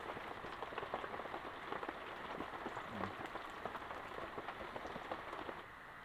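Heavy rain pours steadily onto a surface outdoors at a simple pond-side cooking spot, a dense continuous patter of raindrops heard close, with no voices.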